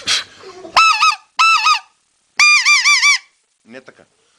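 A goose call whistle is blown in short honking bursts, three loud nasal goose-like honks in a row followed by a softer, brief fourth note, clear and close.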